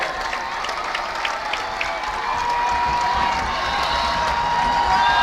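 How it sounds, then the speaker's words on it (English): Steady applause from a large crowd at a sports game, sustained and fairly loud, with scattered cheers rising slightly toward the end. "Now the crowd gives them a round of applause."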